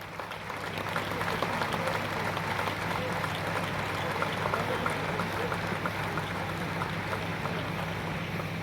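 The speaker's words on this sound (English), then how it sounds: "Keep the claps going, ladies and gentlemen." Applause from a stadium crowd at Wankhede Stadium, honouring cricketer Rohit Sharma at the unveiling of a stand named after him: a steady, dense wash of clapping that holds evenly throughout and sounds broad and distant.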